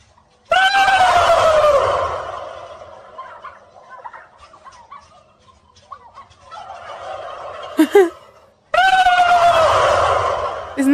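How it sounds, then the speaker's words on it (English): A man gobbling loudly at wild turkeys and the turkeys gobbling back outdoors, strong rattling gobbles at the start and end with quieter calls and rustling between. "Got a couple of videos of guys gobbling at turkeys and turkeys gobbling back."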